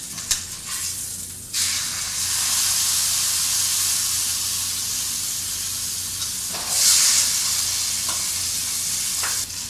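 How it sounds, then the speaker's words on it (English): A turkey sears in a hot pan for a Thanksgiving dinner, giving a loud, steady sizzle that swells sharply after a quiet opening second, with brief bursts of hissing spatter partway through. "So the last side of my turkey is searing"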